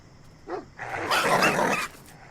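A dog belonging to a masked security guard in the video game Endling gives a short yelp followed by a louder, harsh bark-growl burst, close and alone.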